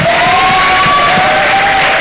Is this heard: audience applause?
yes